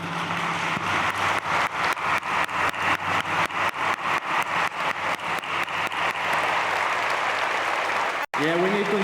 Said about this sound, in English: please join me in giving them warm applause